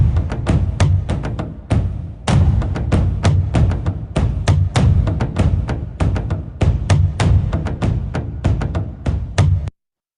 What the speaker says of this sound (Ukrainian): що це у нас барабан, що це у нас звук барабану